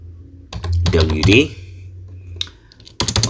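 Computer keyboard keys tapped to type a command, with short clusters of clicks mixed with someone talking over them, then a final quick burst of keystrokes near the end.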